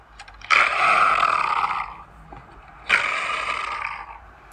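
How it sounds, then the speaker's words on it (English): Two long, rasping leopard calls, each a harsh sawing roar that fades out, separated by a short pause. "This is the sound of a leopard."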